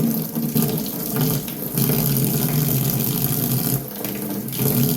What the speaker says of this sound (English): I just rinse the blade off.